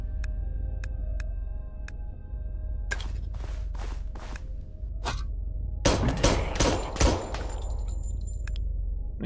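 Gunfire while shooting a zombie inside a house in the video game Undeadly, several sharp separate shots spaced over a few seconds against a low steady game background hum, then a denser cluster of bursts.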